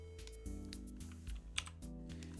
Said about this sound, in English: I'm going to hit 1 on the keyboard